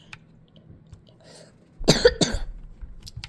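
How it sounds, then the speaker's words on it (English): A person coughs twice in quick succession, close and fairly loud, breaking a near-silent room. "If I can stop coughing, we can continue."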